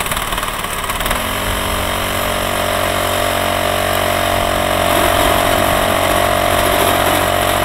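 A Krot motor cultivator, rigged as a winter version, runs its engine loud and close, a steady droning roar with a brief rougher stretch at the start before settling into a constant hum.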